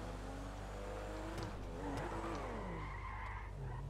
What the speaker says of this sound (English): Go for a little bit of a handbrake turn